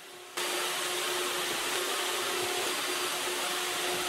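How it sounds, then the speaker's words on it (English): Table saw running while making repeated cuts in plywood to widen a rabbet for a miter station build, a loud steady roar that starts abruptly and holds close and unbroken, no voices. "resetting the table saw and making the cuts until it is wide enough to fit it"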